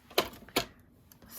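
A paper card is trimmed with two sharp, snappy cuts close by, one quickly after the other, followed by faint light clicks.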